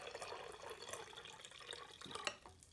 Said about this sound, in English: we can have a look at the water dispenser